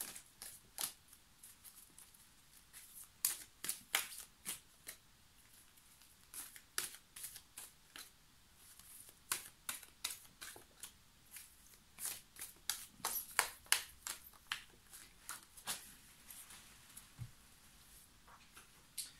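Oracle cards being shuffled for a reading produce soft, papery riffles and flicks in irregular bursts, faint and close, with no speech over them.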